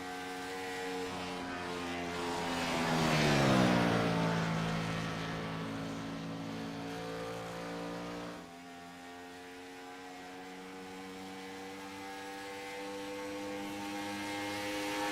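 An IROC race car in a racing video game circles the Atlanta track, its engine droning steadily with a rising and falling pitch sweep as it passes, then settling into a constant drone.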